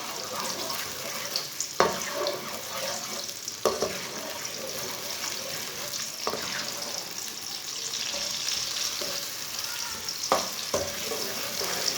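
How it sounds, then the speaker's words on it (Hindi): Finely chopped onions fry in a pan for matar pulao, a steady close sizzle broken by scraping stir strokes every couple of seconds, with no talk over it. "प्याज को हल्का सा ब्राउन कर लेंगे।"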